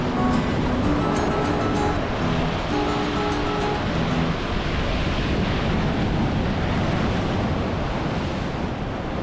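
Ocean surf at Noosa Heads, Queensland, crashing with hydraulic force, a loud continuous roar of breaking water with heavy wind rumble against the microphone and faint tonal hums early on.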